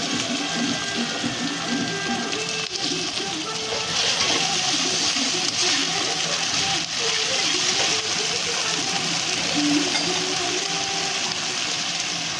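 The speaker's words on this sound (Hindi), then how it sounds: "तो ये जो मेरी पीसी हुई प्याज है मैं वो डाल दूँगी" Ground onion paste frying in a hot pan gives off a steady, loud hiss and sizzle that runs unbroken throughout, with faint clinks of cookware underneath.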